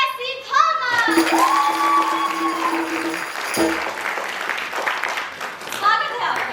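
An audience at an Amar Kala Mahotsav cultural event applauds, a sustained spread of clapping running under a voice and children's cries, moderately loud throughout.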